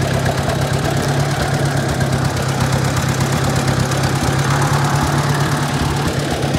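A Ford 860 tractor engine runs in first gear while mowing oats with a sickle bar mower, a loud, steady close-up chug with a constant low drone and no talk.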